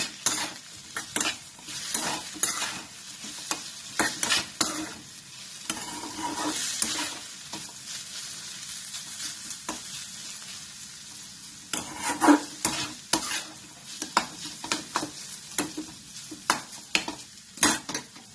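A spoonful of sesame seeds goes into hot oil for aloo poha vade, with continuous sizzling and popping and repeated quick scrapes and clinks of a spoon stirring in the pan.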